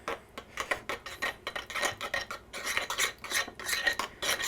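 A spoon stirs honey into homemade Instant Pot yogurt, clinking and scraping against the bowl in a quick, steady rhythm of close metallic taps and rubs with no talking.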